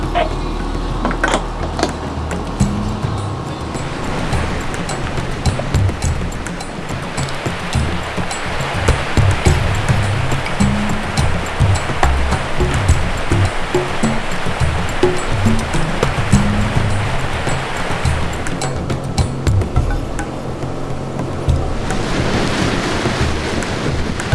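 Ocean waves wash and roar continuously around a sailboat heading out into open ocean toward Morehead City, with wind buffeting the microphone and no voices.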